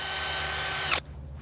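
A power drill whines steadily at close range while boring a hole in an overturned car during a vehicle extrication, then cuts off abruptly after about one second, leaving quiet.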